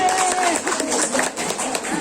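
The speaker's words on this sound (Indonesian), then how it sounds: "Tepuk tangan dulu." An audience at a community health gathering in Cibubur applauds, a dense patter of many hands clapping at moderate distance, running steadily under a speaker's voice.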